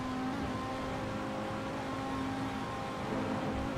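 Race car engine heard on board during a Wednesday Cup race at Oulton Park, a steady, dense, loud mechanical drone with a constant pitch and no voices.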